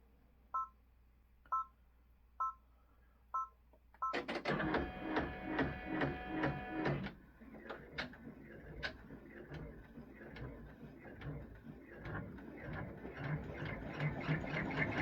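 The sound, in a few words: embroidery machine stitching placement line on stabilizer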